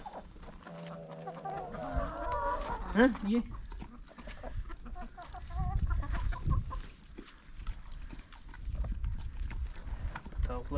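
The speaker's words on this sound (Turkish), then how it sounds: "Tavuklarını yediriyorum." Chickens being fed cluck and squawk close by, the rooster-like calls and busy clucking coming in bursts over rustling and handling noises, while a person speaks a few short words.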